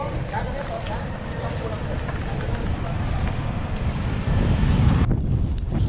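Strong wind roars steadily against the microphone during a bike ride, a dense low rumble that swells louder toward the end.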